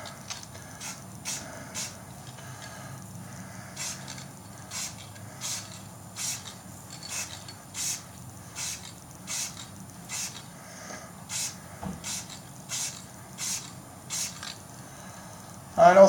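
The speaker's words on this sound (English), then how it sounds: "when you spray around the edges it's going to go on the top a little bit too" Rattle can spray paint hissing in short bursts onto a Chevy truck, each spritz lasting about half a second and repeating steadily about every second, with faint low background noise throughout.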